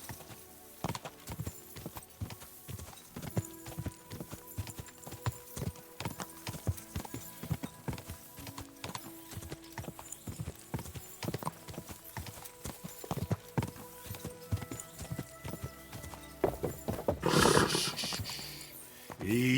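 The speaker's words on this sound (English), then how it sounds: "Easy, good horse." Horse hooves clip-clopping in the video game Kingdom Come: Deliverance II, a long run of distinct, fairly quick hoofbeats on a hard path, with a brief whinny and a louder rustling burst near the end.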